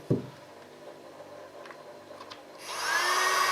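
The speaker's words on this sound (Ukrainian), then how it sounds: "пилосос для матриці камери фактично готовий" A homemade mini vacuum cleaner built for cleaning camera sensors starts up partway through, its steady high-pitched motor whine running loud and alone after a quieter stretch with a brief knock at the start.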